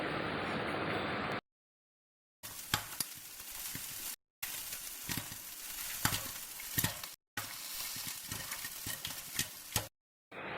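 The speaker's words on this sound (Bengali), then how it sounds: "পপকর্ন এখন ফুটতে থাকবে" Popcorn cooks in a covered pot on the stove with a constant sizzle broken by scattered sharp pops and knocks. The sound comes in bursts separated by brief silent gaps.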